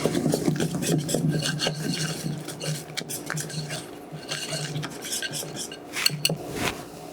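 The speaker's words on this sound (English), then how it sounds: "Scrape it all in. If I leave any in the bowl, I'm in trouble. And mix." Chocolate lava cake batter is mixed in a bowl with a utensil, giving raspy scraping and rubbing strokes against the bowl with occasional light clinks, close and fairly loud, without talk.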